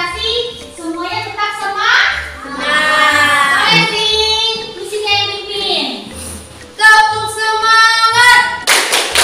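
Schoolchildren in a classroom perform a rhythmic spirit clap, with bursts of claps and taps in patterned sequences mixed with children's chanting voices throughout.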